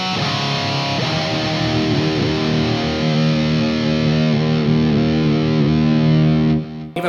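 A distorted electric guitar plays chords through an EVH 5150III LBX Lunchbox amplifier, drenched in heavy, wet reverb that washes and sustains, then cuts off abruptly.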